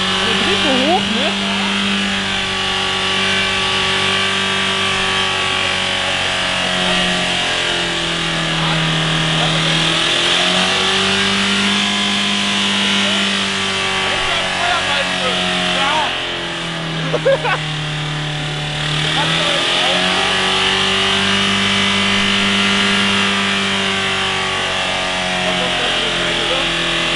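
A diesel engine in runaway, racing on its own at a high, strained pitch without letup. The roar stays loud and near for the whole stretch, sagging briefly a few times before surging back, with voices faintly underneath.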